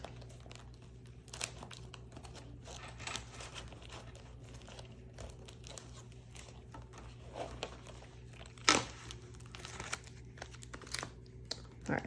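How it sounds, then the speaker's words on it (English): Paper cash envelopes rustle and crinkle as they are pulled out and handled, giving faint, irregular papery crackles with one sharper crunch partway through. "Let me pull out my envelopes."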